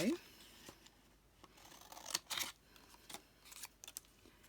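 Scissors cut a small paper ticket free, giving a handful of crisp, close snips and light paper rustles scattered through an otherwise quiet stretch.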